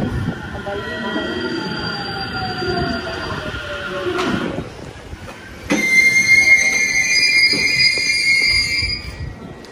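A passenger train rolls along the rails, a steady loud rumble with wheel squeal and whining tones, dipping briefly before surging louder again near the middle, heard up close from inside or beside the car.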